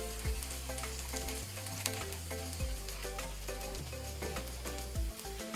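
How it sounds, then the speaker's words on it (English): Garlic sizzles in hot oil in a pan as the first step of a beef and onion stir-fry, a steady close frying hiss broken by occasional stirring knocks and scrapes. "So first thing first is the garlic. You wanna cook this for 30 seconds to 45 seconds"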